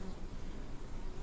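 Carnica honey bees buzzing around the hive's supers on a warm moment of a cold spring, a dense continuous drone heard up close and fairly loud throughout.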